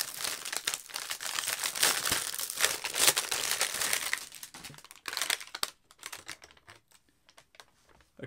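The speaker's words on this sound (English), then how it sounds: "Get the old wrapper off." A plastic wrapper is pulled off a pack of Sainsbury's Taste the Difference Belgian chocolate shortbread stars, with close, loud crinkling and crackling for several seconds. It then gives way to a few quieter rustles and taps.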